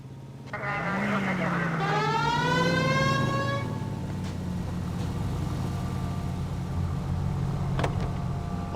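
Police car siren from the game L.A. Noire winds up with a rising wail over a running car engine, then settles into a steady drone as the engine continues.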